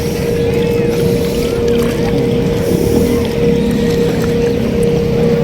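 Boat on the water off Isla Verde, Batangas City, a steady droning motor hum with water wash underneath, close and continuous, people talking faintly over it.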